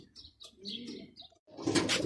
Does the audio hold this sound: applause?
no